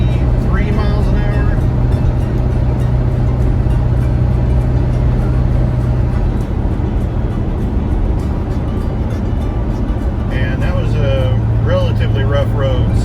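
Car driving at 63 mph on a rough road, a loud steady rumble of tires and engine with road noise filling the cabin throughout, while someone talks over it.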